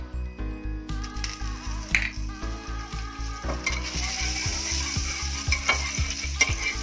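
Butter sizzling and frying in a pan while pav bhaji cooks over low flame, with steady rhythmic stirring and scraping strokes up close and continuous crackle underneath.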